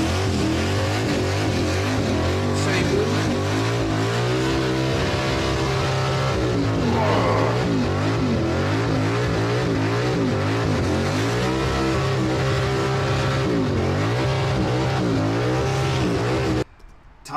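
A car performs a burnout at Summernats, its engine screaming at high revs for a long, continuous stretch with rising and falling pitch, loud and close, before cutting off abruptly.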